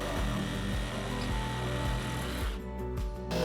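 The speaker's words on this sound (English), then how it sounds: "Next, we will use the saber saw." A saber saw fitted with a metal-cutting blade cuts through nails while a termite-damaged entrance door frame is being replaced. It makes a loud, continuous buzzing rattle with a fast reciprocating rhythm and brief changes in pitch as it bites.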